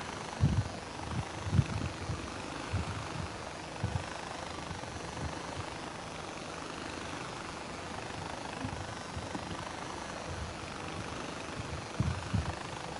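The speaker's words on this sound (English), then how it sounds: "Alright, so we'll get in the helicopter here." A helicopter in the video game Far Cry 4 flies with a steady, even rotor drone, broken by a few low thumps near the start and end, with no talking.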